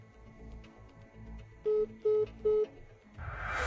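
A telephone is dialed, three distinct keypad tones beeping in a quick even sequence over quiet background, followed by a rising hiss.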